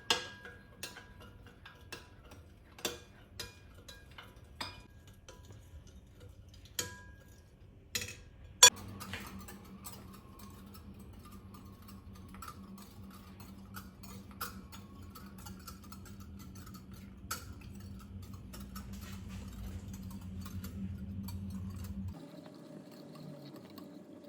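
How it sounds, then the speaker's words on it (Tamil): Yogurt cake batter is mixed with milk: a few light taps and clicks at first, then a steady, low churning whir that runs for about fourteen seconds before cutting out, with no talking. "இப்போ மில்க் இது சேர்த்து இப்போ எல்லாம் மிக்ஸ் பண்ணுறேன்."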